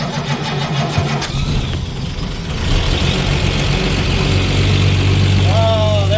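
A Hercules K-Block six-cylinder 95-horsepower boat engine on a Chris Craft cranks and fires up, catching with a rising rumble and settling into a loud, rough idle, with brief whining tones near the end.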